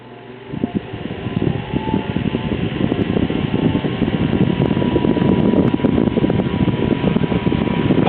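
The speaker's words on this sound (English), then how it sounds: "Part of the reason this fan's a little noisy is because it's supposed to have 3 rubber feet on the underside of the base" A mid-1950s Eskimo desk fan with slightly worn bearings and missing rubber feet, switched on and spinning up into a steady, somewhat noisy whir and rattle that grows a little louder, close by.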